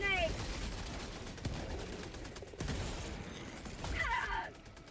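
Bursts of gunfire from an automated turret in the game Helldivers 2, several close sharp volleys with mechanical clatter, while a voice speaks over them.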